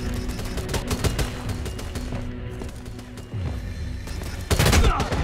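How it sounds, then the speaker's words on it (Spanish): Enemy gunfire in the action game F.I.S.T.: Forged in Shadow Torch rattles in loud, rapid volleys of shots layered over game music and effects, ending with a heavier burst of impacts. "Tío, ¿puedes parar de lanzarme disparos ya?"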